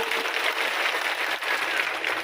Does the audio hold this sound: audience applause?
yes